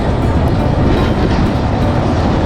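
A train carriage on the Chittagong to Bandarban route rumbles loudly and continuously, with a dense, steady roar of wheels and track noise close around.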